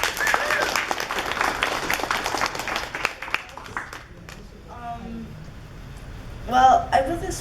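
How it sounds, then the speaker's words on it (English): Audience applause for a young presenter at a robotics club show-and-tell, a dense burst of clapping that fades after about four seconds, followed by a few spoken words. "Big round of applause."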